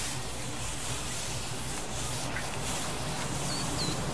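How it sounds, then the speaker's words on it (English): Cleaning wipe rubbed over a dirty stainless steel drop-in ice bin in an outdoor kitchen, a steady close scrubbing swish running on without a break and without speech. "now watch what happens when I use this Barbecue Coach wipe"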